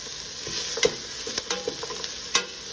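Freshly chopped yellow onions fry in melted butter for a German army-style goulash, giving a loud, close, continuous sizzle broken by sharp pops and spatters, with no voices.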